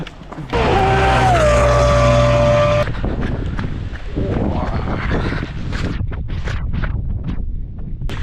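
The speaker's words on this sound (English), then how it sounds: "And a fucking car coming." A car approaches and roars past close by on a trail road during a 65 km ultra marathon, loud and sustained for a couple of seconds, then fading into wind noise and footsteps.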